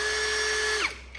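A cordless drill runs at a steady, high motor whine, close and loud, then winds down quickly as it is released.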